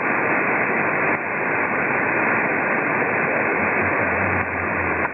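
Ham radio band noise: a steady, loud wash of static hiss filling the receiver, with faint buried stations barely surfacing and a low hum creeping in near the end.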